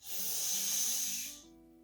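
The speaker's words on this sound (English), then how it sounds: "Last time, breathing in" Deep breath drawn in during a seated chair yoga exercise, a close, steady airy inhale lasting over a second, then trailing off into quiet room tone.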